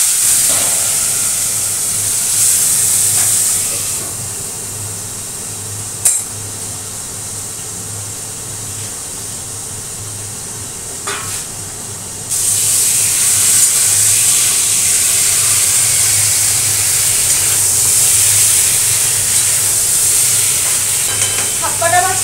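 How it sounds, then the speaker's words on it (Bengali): Scaleless shing fish (stinging catfish) fries lightly in a pan of oil, a loud, close, continuous sizzle with sharp spitting pops. The sizzle drops quieter for a stretch, then surges back louder. "শিং মাছটা এখন আগে একটু মানে হালকা করে নিই, মাছের গায়ে আঁশ নেই তো একটু ফাটতে চায়।"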